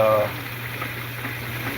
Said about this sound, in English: it's gonna add water into the aquarium like so